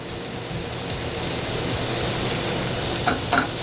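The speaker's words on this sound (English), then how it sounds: "Once them ramps start to brown, we're going to add a little butter." Ramps and butter sizzle steadily in a hot pan, a dense continuous frying hiss filling the space, with a couple of brief sharper spatters near the end and no talking.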